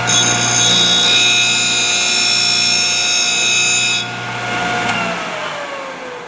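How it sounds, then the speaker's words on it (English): A Thorvie AV-40 sharpening machine grinds a spiral planer cutter with a loud, steady high-pitched whine, then the grinding stops and the motor spins down over its last two seconds. "One more grind and we should be complete."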